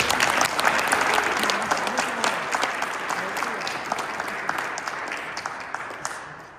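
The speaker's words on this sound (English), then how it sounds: "One more round of applause" Audience applause at a cadet academy graduation ceremony, dense crowd clapping that starts full and gradually thins, with a voice briefly over it.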